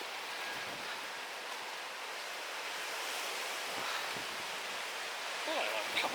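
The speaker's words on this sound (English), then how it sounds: "It's a bit windy again today." Wind blowing outdoors on a garden plot in late August, a steady broad rush with gusty buffeting against the microphone throughout, swelling slightly toward the end.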